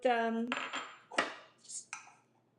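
Cooked rice being served onto plates in a Swedish home kitchen, with a ringing metallic clink of a utensil against a dish followed by several quieter scrapes and taps, all close and unaccompanied.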